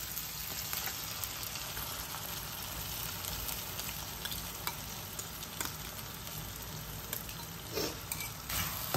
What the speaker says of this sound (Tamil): சேர்த்து இதையும் நல்லா வதக்கி விடணும்